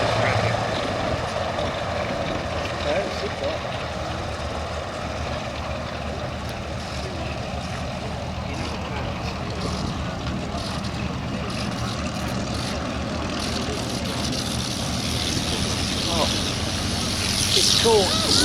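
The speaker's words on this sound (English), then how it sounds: "pair of Fokkers, who you can see have started up on the flight line" A pair of Fokker triplanes' propeller engines run steadily on the airshow flight line at a fair distance, a constant buzzing drone that grows a little louder near the end.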